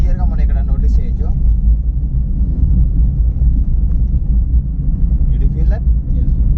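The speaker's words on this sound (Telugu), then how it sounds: "టైర్ నాయిస్ అనేది మాత్రం క్లియర్గా మనం ఇక్కడ నోటీస్ చేయొచ్చు" Steady low road rumble and tyre roar inside a Maruti Suzuki Swift Dzire moving at about 40 km/h, continuous and loud throughout, with a voice talking over it at the start and again near the end.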